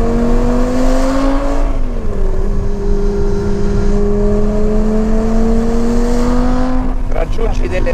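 A Lamborghini Superleggera's naturally aspirated engine revs loudly and close, a sustained mechanical drone that climbs, dips and climbs again in pitch, ending with a brief rise of noise.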